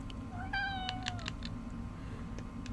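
A cat meows once, a clear rising-then-falling cry lasting under a second, followed by faint clicks and a low steady background hum.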